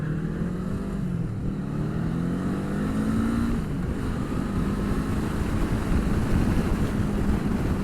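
A Kawasaki Eliminator 450 motorcycle engine accelerates, its rising harmonic drone climbing through the gears at steady, fairly loud volume with wind and road rush behind it and no talking.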